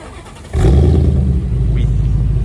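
A V8 engine in a Ford Mustang at a car meet fires up with a sudden loud roar, then settles into a steady, deep rumbling idle nearby.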